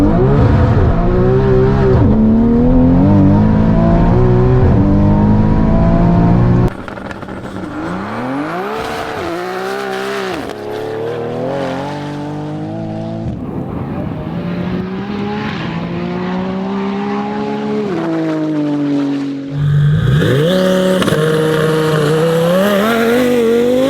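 A 1500-horsepower Mitsubishi Evo 6 race car running 85 psi of boost screams through repeated hard revs toward 11,000 rpm, loud and close, with rising and falling engine pitch and sharp gear changes, no voices.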